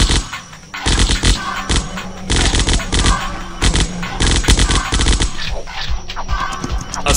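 Assault rifle fire in a zombie apocalypse video game, repeated sharp bursts and single cracks in an uneven rhythm, loud and close throughout.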